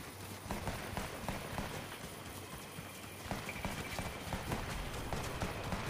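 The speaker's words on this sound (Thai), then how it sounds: "เสียงฝีเท้าอยู่ใกล้ๆค่ะข้างหน้าเรา" Footsteps nearby in the video game Fortnite, a quick run of light, regular steps under a constant hissing background.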